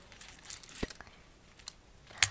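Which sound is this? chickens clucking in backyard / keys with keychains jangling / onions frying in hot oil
keys with keychains jangling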